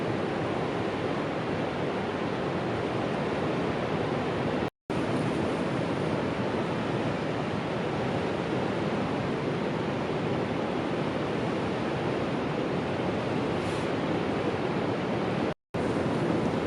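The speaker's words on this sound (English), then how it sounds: "you can really see the waves pounding the shoreline" Ocean waves pound the shoreline at Cape Lookout on the Oregon coast, a loud, steady roar of broken surf that fills the whole scene and is cut by two abrupt, brief gaps.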